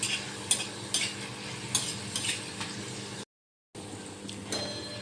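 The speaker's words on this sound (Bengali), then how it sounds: "এইভাবে ভেজে নিতে হবে এগুলো।" Small pieces of flour dough sizzling in hot oil as a utensil stirs them, with steady frying hiss and sharp clinks of metal on the pan, close up and without talk.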